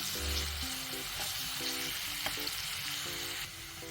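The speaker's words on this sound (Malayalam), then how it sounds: "കറിവേപ്പിലയും പച്ചമുളകും നമ്മൾ ചേർത്തിട്ടുണ്ട്. ഇത് നല്ലപോലെ ഒന്ന് മൂത്ത് വരണം." Chopped onion, curry leaves and green chillies fry in hot oil for an okra pachadi. A loud continuous sizzle is broken by occasional stirring scrapes, with a faint tune playing in the background.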